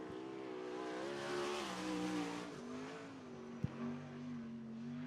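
A 360 sprint car screams around a speedway track during a qualifying lap, its engine note rising and falling as it revs through the corners, loud and alone with no voices.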